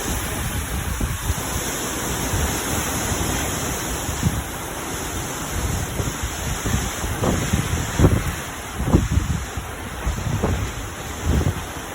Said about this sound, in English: that was a little bit of a gust